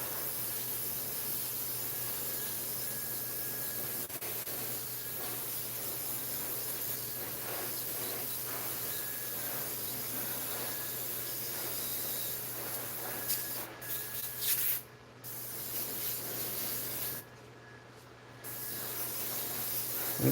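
Primer sprayed in a steady, hissing stream as a first coat on a Wolverine model, a continuous near spray with a few brief pauses and no talk.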